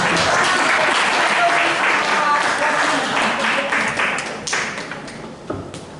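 A crowd applauds steadily for several seconds, the clapping thinning and tapering off toward the end.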